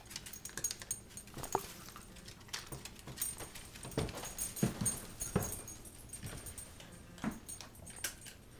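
Dogs whimpering and fussing nearby, soft whines and snuffles repeating irregularly over a low background with scattered light patters, no talking.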